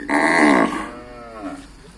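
A Brahman crossbreed cow at a Thai livestock market gives one loud, close moo that swells and then fades into a softer, trailing low call, with no talk over it.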